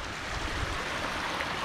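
A tidal waterfall pouring out as a coastal body of water drains at low tide on a wild Australian shoreline, a loud, continuous broadband rush of falling water with no pauses.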